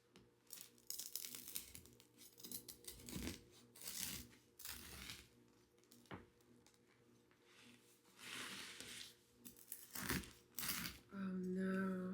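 Knife sawing through a homemade sourdough loaf, giving repeated dry crunchy crust scrapes and crackles in uneven bursts, close and fairly quiet, with a low background hum and no talking.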